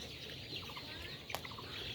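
A few soft clucks from chickens, faint and somewhat distant over a low background hum, with one sharp short click in the middle.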